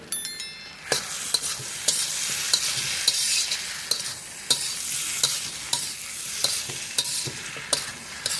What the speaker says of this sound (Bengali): এবারে আমরা দিয়ে দিচ্ছি খাসির চর্বি।